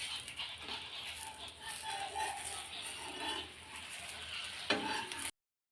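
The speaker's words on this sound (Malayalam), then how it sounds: "നമുക്ക് ഇളക്കി എടുത്ത് നോക്കാം." Jackfruit and egg batter being stirred in a pan on the stove, a soft, steady scraping with light sizzling throughout and one sharper clink near the end.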